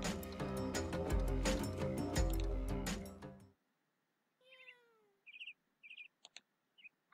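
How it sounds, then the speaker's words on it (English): Music from a visual novel game stops, then a few short cat meows follow in near-silence, faint and scattered, with small chirpy calls between them. "the sound of a cat"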